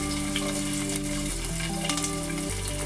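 Crushed garlic and green chilies fry in hot oil for Telugu-style okra fry, a dense, close sizzle over a low steady hum, with no talking.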